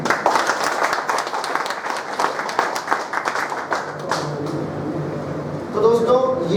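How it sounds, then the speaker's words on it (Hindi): Loud clapping from a seminar audience fills most of the stretch, dense and continuous, then thins out toward the end as a voice comes in over it. "सब लोग अपने अपने लिए ज़रा ज़ोरदार तालियां बजाएं।"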